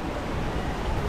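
Savdav waterfall in the Konkan hills roars in a dense, steady rush of falling water, loud and close, with no voices over it.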